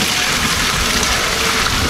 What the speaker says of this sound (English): I'm gonna pour half my water in first.